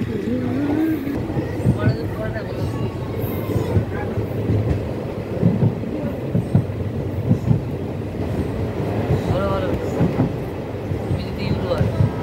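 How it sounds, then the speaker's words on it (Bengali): A fast-moving train heard from inside the carriage, with a continuous loud rumble and rattling wheel noise throughout and voices talking over it. "ট্রেনটা খুব জোরে ছেড়েছে।"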